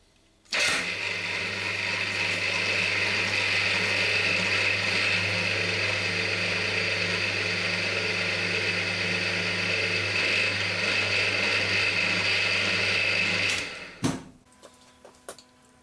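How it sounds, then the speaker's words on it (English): A lathe power-taps a hole with a machine tap at its slowest speed of 95 RPM, holding a steady motor hum and whine for about thirteen seconds before stopping abruptly, followed by faint clicks. "we'll go for another power tap. This is a machine tap. So we go on the slowest speed, which is 95 RPM."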